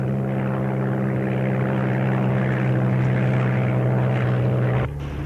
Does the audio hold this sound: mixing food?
no